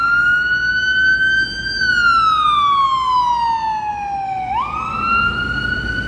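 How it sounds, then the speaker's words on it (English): An ambulance siren wails steadily on a Washington DC street near K Street, its tone slowly sweeping up and down over the hum of road traffic, fairly close and loud. "Hey, it's the same ambulance making that noise."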